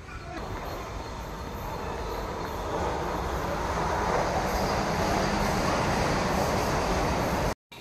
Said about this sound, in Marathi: ट्रेन आलेली आपली.